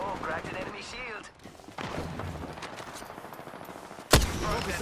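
Gunfire in Apex Legends, scattered shots and game effects mixed with voices talking, ending in one loud, sharp close blast followed by more firing.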